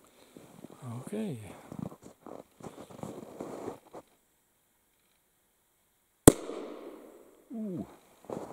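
A single sharp, loud gunshot from an early Smith & Wesson tip-up revolver, fired outdoors, lands after a stretch of talk and silence and is followed by a decaying echo, with someone speaking before and after.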